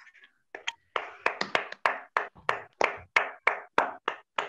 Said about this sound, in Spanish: esto se merece un gran aplauso